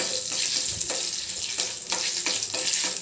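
Chana dal, fenugreek seeds and chillies sizzle steadily in hot oil for a tempering, a continuous close frying crackle with small stirring clicks throughout.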